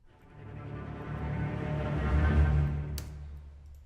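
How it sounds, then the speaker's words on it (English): Big orchestral string section swelling in a long glissando hit, sampled from VSL Synchron FX Strings; the dense sound builds steadily to a loud peak, then a sharp accent lands near the end before it fades, with no talking. "So now we get to this next section where we have all these big string hits."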